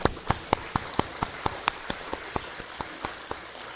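A church congregation claps for the choir during a Sunday service. Crisp claps come in a steady, evenly spaced rhythm, about four per second, moderately close, with no talking.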